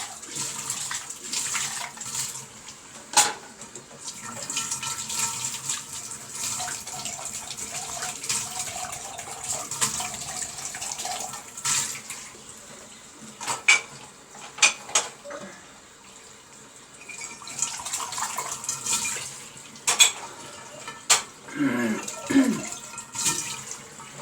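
Dishes being washed by hand in a home sink during morning housework, with a continuous rush of tap water broken by scattered sharp clinks and knocks of dishes and utensils.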